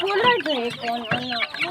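Backyard chickens cluck and squawk nearby in a quick run of short, overlapping calls that stay steady and loud throughout.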